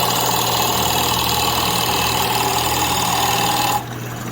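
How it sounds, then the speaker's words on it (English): Forstner bit boring a hole, driven by a motor with a loud, continuous droning hum and rough grinding that holds steady before easing off near the end. "Drilling a bit faster."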